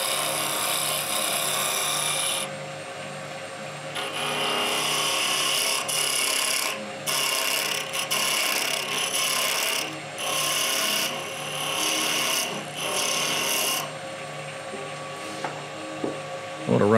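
A gouge carves and shapes a wooden handle cut from 2x4 stock, giving a steady, close, loud rasping scrape that runs almost continuously with brief pauses between strokes.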